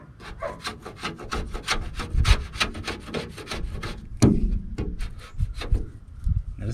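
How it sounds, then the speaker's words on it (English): A scraper scrapes loose, peeling paint off a Chevy van in quick repeated strokes, each pass a harsh rasping rub, with a few louder knocks along the way and close and clear throughout. "So I'm taking off all the loose paint with the scraper for that reason."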